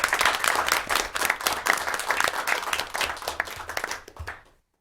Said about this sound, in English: Can we give another round of applause to them?